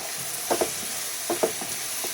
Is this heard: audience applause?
no